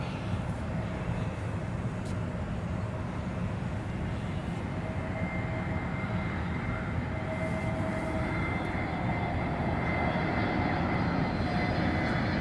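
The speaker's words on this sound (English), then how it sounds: "Atlas Air freighter, 2 on the flight deck." An Atlas Air freighter jet at London Heathrow Airport, a steady, broad engine roar holding throughout with faint tonal whine layered on top, moderately distant and unbroken.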